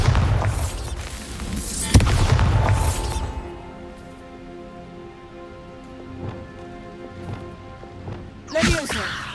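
A Bombarda spell blasts in the Hogwarts Legacy video game, with a sharp boom early followed by crackling debris, a quieter stretch with small hits, then another burst near the end, with a voice talking.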